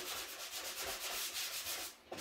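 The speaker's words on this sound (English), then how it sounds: "So once I sand it, like I'm doing right now" Hand sanding spackle on a wall surface, quick rhythmic back-and-forth scraping strokes, close and fairly soft, ending with a brief knock.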